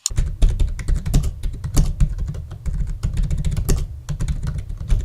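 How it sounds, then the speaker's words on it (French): Rapid typing on a cheap LED gaming keyboard, its keys clacking loudly and fairly noisily in a dense, uneven run of close strokes with brief pauses, no voice over it. "il est assez bruyant par rapport à un autre clavier"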